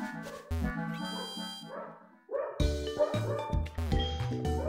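A creature in the Pokémon SoulSilver video game gives a series of loud, synthesized barking yips in bursts, mixed with bright game chiptune tones.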